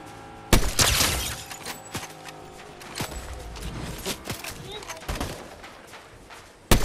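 Gunfire in a first-person shooter game: several sharp, loud shots and short bursts scattered irregularly among smaller cracks and impacts, with a final blast at the very end.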